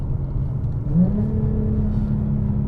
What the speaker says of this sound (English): There's actually some benefits to having a loud car here because the animals will get out your way.